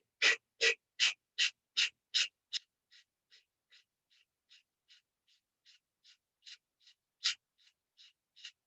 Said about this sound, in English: do a breathing exercise at the end called Kapalbhati breathing, skull shining breathing